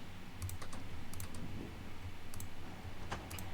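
Quick bursts of mouse clicks at a desk during Train Sim World 2 play, crisp close ticks in small irregular clusters over a steady low background hum, no talking.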